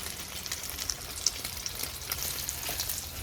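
Tortang talong, an eggplant omelette, frying in a pan with a steady close hiss of oil and a few small pops, no voices.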